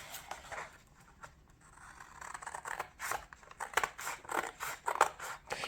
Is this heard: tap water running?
no